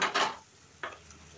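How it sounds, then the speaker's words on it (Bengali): Tomato and spice paste frying in oil for a Bengali tel koi fish curry is stirred in two quick scraping strokes across the pan, with a soft sizzle underneath and no talk. "ভালো করে কষিয়ে নেব যতক্ষণ না মশলা থেকে তেল ছেড়ে আসছে"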